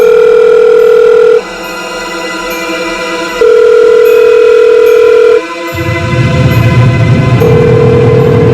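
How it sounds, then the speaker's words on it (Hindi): A telephone rings unanswered in repeated steady tones with pauses between them, loud and close, then a low rumbling noise rises underneath. "फोन नहीं उठा रहा।"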